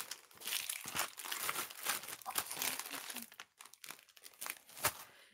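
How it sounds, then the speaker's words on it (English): Plastic bags crinkle and rustle in close, irregular bursts as a bead haul is unpacked, including glass barrel beads, with no talking. "Sorry for the rustling."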